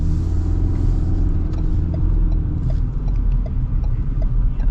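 Loud, steady low rumble of a 2025 Ford Ranger XLT pickup with the 2.3 engine pulling hard under acceleration, heard from inside the cab, with no talking.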